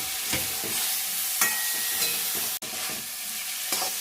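Spice paste frying and being stirred in a pan with a splash of water for a winter-vegetable tangra fish curry: a continuous close sizzle with occasional spoon scrapes and knocks against the pan, no voices.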